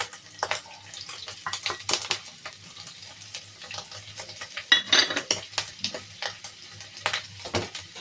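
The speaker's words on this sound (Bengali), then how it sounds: "সামান্য জল দিয়ে একটু মশলাটা কষে নেব।" Spices being sautéed in a pan for hilsa fish curry, with repeated clattering and scraping of a spoon against the pan over a soft sizzle, close and irregular.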